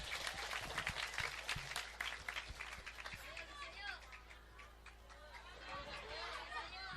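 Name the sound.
audience applause for Ramadhani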